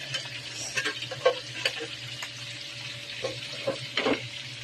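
Adobo frying in a pan while being stirred, a steady close sizzle broken by irregular scraping and clinking strokes of the spoon against the pan.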